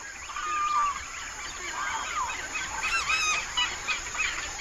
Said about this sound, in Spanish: Es sobrecogedor el espectáculo sonoro que producen juntos las aves, los anfibios y los insectos